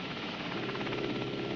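A rescue helicopter flies nearby in 1960s Vietnam War footage, its rotor giving a steady, throbbing chop over engine drone.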